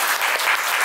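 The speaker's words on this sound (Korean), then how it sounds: "박수를 함께 쳐주시면" Audience clapping at a K-pop solo concert birthday party, a dense, steady wash of many hands applauding close by with no voices breaking through.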